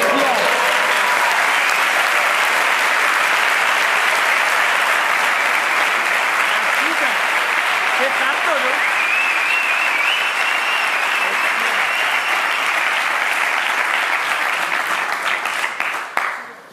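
Sustained spontaneous applause from a live audience, a steady, dense wall of clapping that holds loudly for over fifteen seconds before cutting off, with some voices mixed in.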